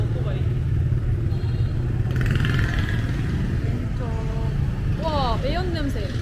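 Motorcycles and scooters in Hanoi street traffic make a constant close rumble of engines, with horns beeping near the end while people talk over the noise.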